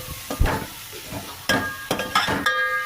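Masala frying in a pan while being stirred: soft sizzling under a few sharp scrapes and clinks of a spoon against the pan, close and moderately loud, with no talking.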